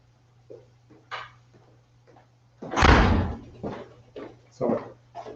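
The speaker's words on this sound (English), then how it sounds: "One second, I just gotta open the door." A door is opened and shut in a home kitchen during cooking, giving one loud close thump in the middle with softer handling knocks and rattles before and after, under a steady low hum.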